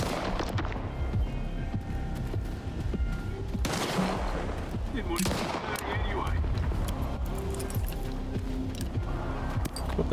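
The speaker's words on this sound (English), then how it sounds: "Oh, that's a grenade." In the shooter STALKER 2, a heavy grenade blast breaks through ongoing gunfire, with sharp shots and booms scattered across a loud, busy firefight and talk mixed in.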